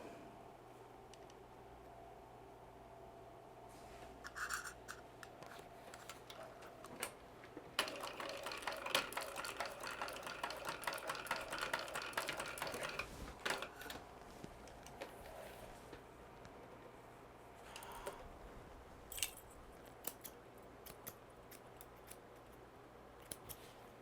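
A sewing machine stitches over the thick edge of a wristlet with a hump jumper, a dense mechanical run that builds in the middle, then a few short bursts against a steady low hum.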